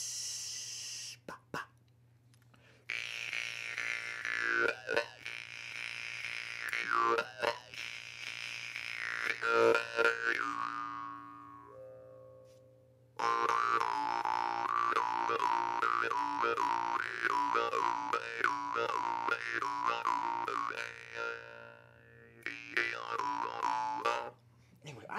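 Jaw harp played live, a twanging, buzzing drone with shifting wah-like tones in long rhythmic phrases, loud and close, broken by a brief pause midway and fading near the end.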